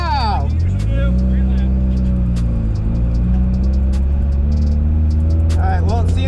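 A Subaru WRX runs on a race track, its engine droning loud and steady throughout with a rising pitch near the end, while people talk over it.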